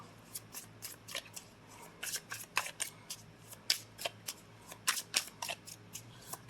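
Island Time love oracle cards are shuffled by hand, giving a quick series of crisp, papery flicks and snaps in an uneven rhythm. The sound is close and quiet, with no one speaking.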